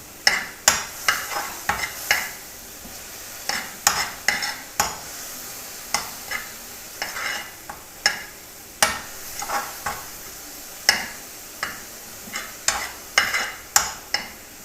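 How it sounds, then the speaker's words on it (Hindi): Garlic being stir-fried in a pan for chutney, with frequent sharp clicks and scrapes of a spoon stirring over a soft constant sizzle, close and fairly loud throughout. "अब थोड़ा सा इसे भूनना है कि जो लहसुन का कच्चापन है वो ख़त्म हो जाए"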